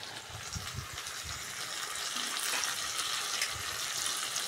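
Salted, turmeric-coated prawns fry with spices in a pan for an Echor Chingri recipe, giving a steady close sizzle with occasional stirring sounds and no talk.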